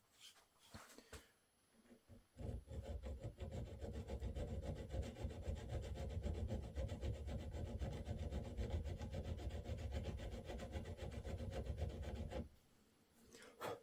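A metal file rasps steadily across a high spot on an Enfield rifle receiver, a close, continuous run of quick back-and-forth strokes lasting about ten seconds, with brief handling noises before and after.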